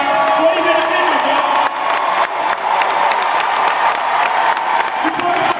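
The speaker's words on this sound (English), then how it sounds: "give me a big hand clap" Audience at a convention event clapping and cheering for military service members, a steady wash of applause with scattered whoops running throughout, fairly loud and close.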